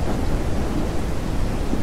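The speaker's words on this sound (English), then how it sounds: "I want to just kind of wait till it stops fucking raining." Heavy rain pours down with rolling thunder in the SurrounDead survival game: a dense, constant downpour and deep rumble, loud and unbroken, with no voices.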